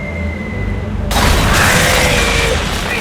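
A cannonball fired in the game Tales of Monkey Island: one sudden loud blast gives way to a sustained rushing roar over a low game background.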